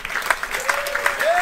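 Applause from the audience at a live concert, a steady patter of clapping heard close and continuous, with a sustained tone sliding upward near the end.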